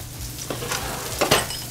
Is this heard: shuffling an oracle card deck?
no